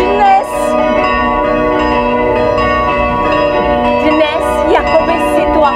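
Church bells ring continuously with sustained, layered tones and periodic strikes, loud and dense, heard during a Shakespearean improvised theatre performance at the Hronov 2025 festival.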